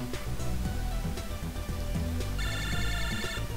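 A phone rings in Mega Man Battle Network 5 as an electronic, tonal ring melody over in-game background music, with a brighter, higher chime pattern joining toward the end.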